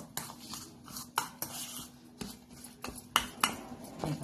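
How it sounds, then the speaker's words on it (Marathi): Semolina and yogurt batter for moong dal dhokla is stirred with a spoon in a bowl, giving repeated close scrapes and sharp clinks against the sides at an uneven rhythm, with no talking. "आता या ठिकाणी मी दही घातलेलं आहे आणि हे चांगलं हलवून 1-5 मिनिटं मिश्रण असंच ठेवायचं."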